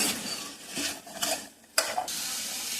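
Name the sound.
stirring chopped vegetables in a pot for soup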